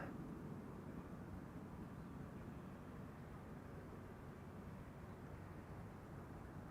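Air Canada Flight 900 from Montreal arrives at Amsterdam Schiphol with its gear down, a steady, moderately distant roar of jet engines that holds evenly throughout without any break.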